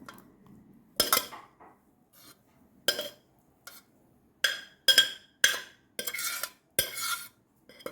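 A spoon stirring squid roast in a metal pan, giving a series of sharp scraping clinks in uneven bursts, some closely clustered, with quiet gaps between them.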